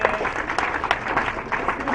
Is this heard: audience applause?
yes